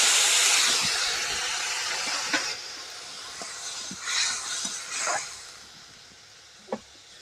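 Mangoes simmer in a little water with salt and turmeric, starting with a strong steamy hiss that fades to a soft bubbling, broken by a few small pops and clicks.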